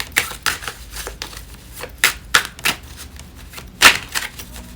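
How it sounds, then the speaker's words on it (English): Rapid papery riffles and soft slaps of tarot cards being shuffled, coming in several quick bursts with brief pauses between, close and fairly crisp. "I'm trying to push myself to start shuffling the cards on the video"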